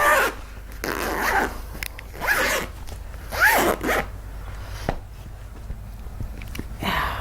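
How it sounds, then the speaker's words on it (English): A zipper being pulled shut along a lid during sewing, several quick rasping zips in separate bursts, close and fairly loud, with faint handling noise between them. "pretty sure if I zip this up"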